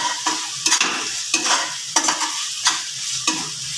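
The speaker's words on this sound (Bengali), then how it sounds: "সব মশলা এবার ভালো করে কষিয়ে নেব।" Ground spices and garam masala sauté in hot oil for prawn pulao, a steady close sizzle broken by repeated sharp scrapes of a spatula against the pan at a regular pace.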